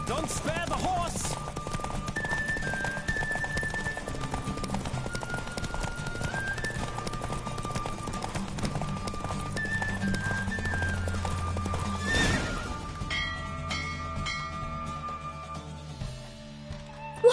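Horse galloping and neighing in a PS4 video game, quick rhythmic hoofbeats with whinnies over game music and effects, thinning out toward the end before a sudden final thump.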